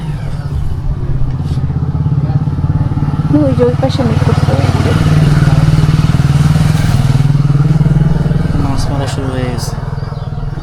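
Motorcycles carrying people to the river to fish pass by, a steady low engine drone rising and fading over about ten seconds, with someone talking over it outdoors.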